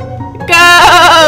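A goat bleats once, loud and close, a wavering nasal cry rising out of a brief low rustle.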